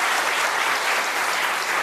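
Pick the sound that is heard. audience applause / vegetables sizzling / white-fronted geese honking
audience applause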